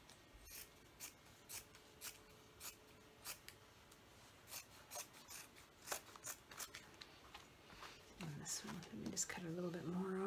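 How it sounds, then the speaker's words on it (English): Scissors snip through a denim apron piece in short crisp cuts, a dozen or so spaced irregularly, close and fairly quiet, with a rustle of fabric handling near the end. "I think I'm going to cut this top piece off first, just so we can get through this easier."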